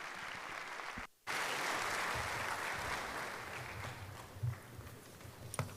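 A round of applause fills a hall at a UN peacekeeping ministerial meeting, steady and dense from a large seated audience, briefly cut at about one second before resuming and tapering slightly toward the end.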